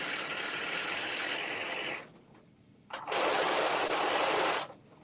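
Sewing machine running an edge stitch along a single fold of fabric for an off-the-shoulder top, two steady bursts of close whirring with a brief pause between them.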